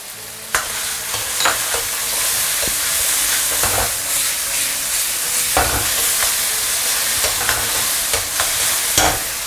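Ginger, garlic and shallots stir-fry with shredded meat in a hot wok, a steady loud sizzle broken by repeated scraping clacks of the spatula against the metal.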